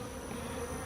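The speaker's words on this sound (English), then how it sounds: "I've got bees in my suit right now." Honey bees buzz in a steady, dense drone close around a beekeeper, some of them inside the protective suit, with no talk.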